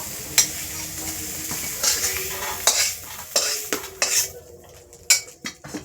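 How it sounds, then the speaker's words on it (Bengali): A metal spatula scrapes and clanks against a wok in irregular strokes over a steady sizzle of prawns frying. "চিংড়ি মাছটা দিয়ে নাড়ছি লাল করে ভাজতে হবে"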